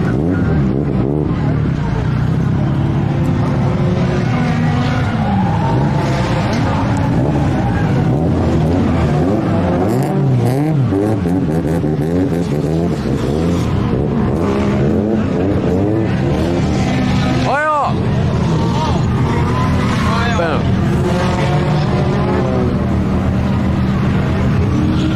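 Drift cars circle a track at a Nikko drift day, engines roaring and revving continuously with rising and falling pitch sweeps, loud and close, voices talking underneath.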